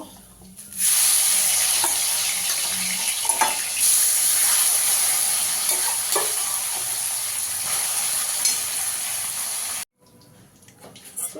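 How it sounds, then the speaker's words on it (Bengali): Fish pieces frying in hot oil in a pan, a continuous loud close sizzle with a few soft stirring clicks, holding steady for about nine seconds before stopping abruptly. "বাকি মাছগুলো ভেজে নেব।"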